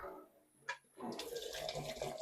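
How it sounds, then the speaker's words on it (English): Hot water runs from the tap of a homebrew brewing vessel fitted with a hose and Jubilee clip, starting with a brief gush and then settling into a steady close splashing flow, with no talk. "So the water that's going to come out of there is going to be very hot to begin with."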